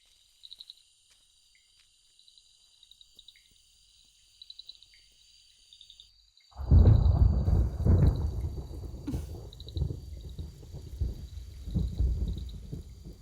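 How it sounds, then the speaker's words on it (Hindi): Heavy rain and thunder at night near a hostel: after several seconds of faint chirping crickets, a sudden loud rumble breaks in and a dense, steady roar of downpour continues. "उस वक्त बहुत बारिश हो रही थी।"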